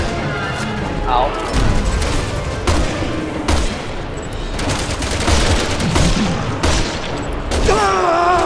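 Dense gunfire and explosions from the video game Resident Evil 6, with rapid bursts of shots and booms running continuously and loudly throughout, with occasional speech mixed into the chaotic battle noise.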